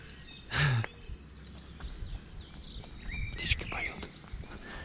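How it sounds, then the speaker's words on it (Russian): Small birds chirp and twitter in an Oregon spruce forest hung with moss, short calls scattered near and far over quiet ambient air, with a brief rustling burst early on. "Птички поют."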